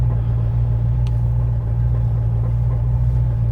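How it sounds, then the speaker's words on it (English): A 1973 Mercury Cougar XR7 with a 351 four-barrel V8 runs steadily nearby, its deep, even low rumble continuous throughout with no speech. "Starts and runs well, even from a cold start."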